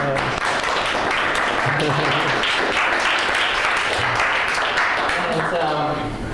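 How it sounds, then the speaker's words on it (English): Audience applause at the close of a late-night talk session, dense sustained clapping filling the whole stretch with voices mixed in over it. "give yourselves a round of applause"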